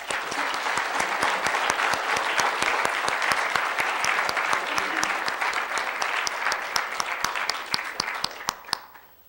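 Audience at a Callaway County candidate forum gives the candidates a round of applause, steady dense clapping throughout that thins and fades out at the end.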